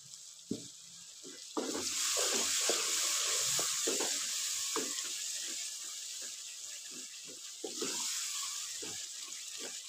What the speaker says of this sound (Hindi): हल्का सा पानी डालेंगे।